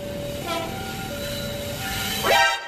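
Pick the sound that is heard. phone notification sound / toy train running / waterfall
toy train running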